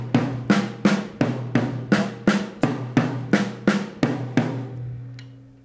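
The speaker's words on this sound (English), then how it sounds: "So we're going back and forth between the snare and the high tom." A drum kit plays evenly spaced strokes alternating between snare and high tom in two-note groupings, about a dozen sharp hits in steady rhythm, close and loud, ending with a ringing decay.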